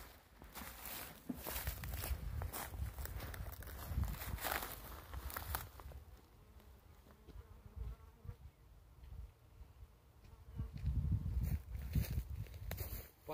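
Honeybees buzz around a hive outdoors, a dense steady drone close by, mixed with footsteps and rustling of someone moving near them, easing a little midway before swelling again.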